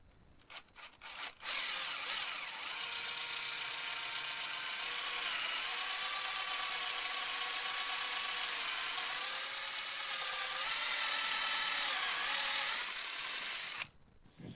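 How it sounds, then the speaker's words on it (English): A drill with a step bit grinds steadily through a PVC fitting for about twelve seconds, its high whining rasp shifting slightly in pitch, with brief clicks before and after. "Stepper bit, this should drill pretty easy."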